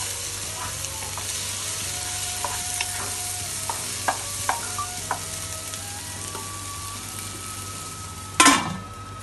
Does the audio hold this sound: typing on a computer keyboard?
no